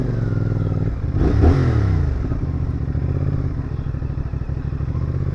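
A CFMoto 450SR motorcycle ridden through Ankara's Kızılay, its engine revving up and then settling into a loud, close, steady throbbing drone with rattly mechanical texture.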